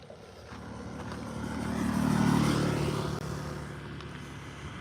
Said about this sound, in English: Gentlemen out enjoying the scooter.